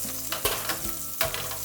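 Salmon fillet flipped and frying in a pan to cook the top, giving a steady close sizzle broken by a few sharp scraping knocks of a spatula against the pan.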